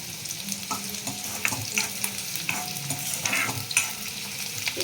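Onion fries until reddish in a pan over a medium gas flame for a spiced ambadi bhaji, sizzling steadily with repeated stirring clicks and scrapes up close, no voices.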